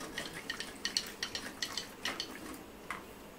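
A spoon stirs cooked dal seasoned with salt in a pan, giving a run of light, irregular scraping clicks at close range with no talking.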